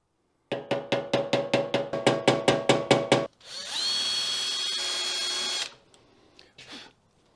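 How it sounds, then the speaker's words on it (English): A rotary hammer pushes a rear wheel bearing through the hub of a BMW M3 Competition: about fifteen loud hammering bursts, then a sustained high power-tool whine for a couple of seconds, followed by faint clinks. "we're gonna use the rotary hammer to push it through the hub"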